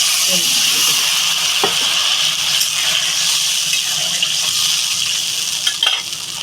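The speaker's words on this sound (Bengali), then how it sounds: "এবার জল দিয়ে দেবো পরিমাণ মতন জলটা" Water poured into a hot cooking pan holding green chilies for a Bengali chela fish curry with flat beans and eggplant, a loud, steady, close rushing hiss that eases slightly near the end.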